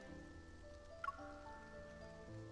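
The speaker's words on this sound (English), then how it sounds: "The rain has soaked Caleb's shoulders." Rain falling in the video game Love and Deepspace, a soft, steady patter heard faint and continuous under a quiet musical score, with a brief bright chime near the middle.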